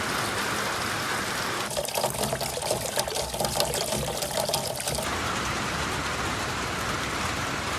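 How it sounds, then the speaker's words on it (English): Steady, dense rush of heavy rain overflowing gutters, pouring like water spilling over, with a brighter splashing stretch in the middle; no talking. "I mean, the gutters can't even handle it."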